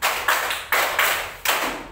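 Hands clap together in a counted rhythm exercise in a classroom, four or five sharp, even claps spaced about half a second apart, close and crisp with no talk over them.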